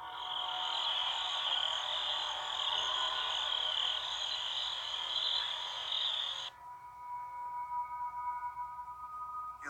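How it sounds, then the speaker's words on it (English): Night insects chirp in a steady, high-pitched continuous drone from an outdoor night scene, played back from recorded footage; the tone cuts abruptly and shifts to a quieter, lower chirping layer near the end. "catches nothing but crickets chirping under a night"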